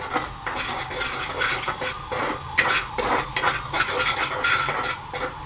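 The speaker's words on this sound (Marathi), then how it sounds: "पाच मिनिटांनी झाकण काढू मिक्स करा" A spoon works through pieces of suran, elephant foot yam, in a spiced curry in a pan, giving steady scraping and clinking against the metal with soft wet shuffles and an even, repeating rhythm close by.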